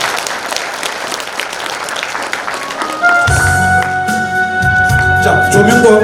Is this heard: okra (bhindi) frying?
no